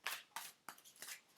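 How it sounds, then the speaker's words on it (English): A deck of oracle cards is shuffled by hand, making five soft, evenly spaced papery swishes in a quiet room, each a brief rustle that fades before the next. "me just give them a shuffle."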